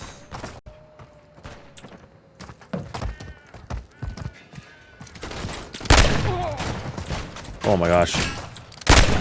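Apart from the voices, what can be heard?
gunfire in video game Call of Duty MW3 Warzone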